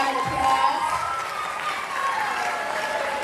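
Steady applause from an audience at a fifth grade promotion ceremony, dense and continuous clapping with some crowd noise, filling the room without talk.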